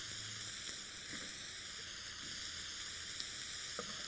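Eggplant and zucchini pieces fry in a pan with a steady, soft sizzle and faint crackle, close but low in level, with no voices.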